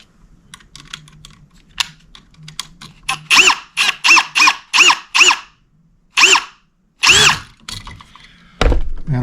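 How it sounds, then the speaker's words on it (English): A power drill with a Robertson square-drive bit drives a ground screw on a light switch, sounding as a series of short, sharp close bursts of whirring, roughly eight pulses spaced under a second apart after a quiet start, then a final burst. "tighten down my ground screw"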